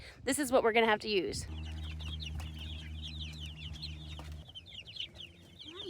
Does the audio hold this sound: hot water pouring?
no